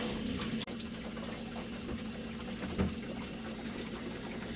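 Water pouring into a plastic tote, a continuous close trickling fill with a low steady hum underneath, heard without any talking.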